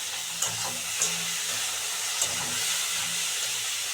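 Tomatoes and potatoes are added to a hot pan, giving a soft steady hiss of frying with a few sharp clinks of stirring, close and fairly quiet, no voices.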